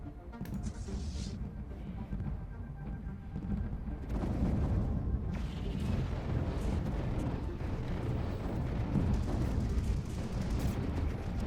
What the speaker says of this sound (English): Look at the cannons firing off.